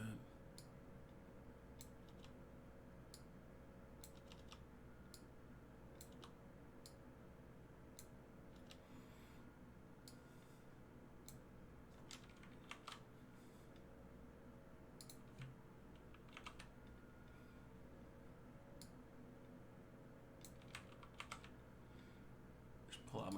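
Soft keyboard typing, scattered clicks and short bursts of keystrokes, faint against a steady room hum, with quiet talk at times.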